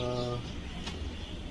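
Pigeons in a loft in Chikhli, Maharashtra, coo in a low throaty drone, with a clear tonal call at the start fading into softer overlapping coos and a brief rustle.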